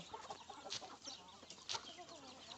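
Chickens cluck in short, scattered bursts around a farmyard, fairly faint and close, with a few sharper calls standing out against a low background.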